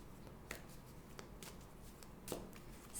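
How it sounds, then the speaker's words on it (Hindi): Tarot cards drawn from a deck one by one, with soft papery slides and flicks at irregular intervals, close and quiet against low room noise. "मंथ के 4 वीक्स के लिए 4 cards निकालेंगे हम"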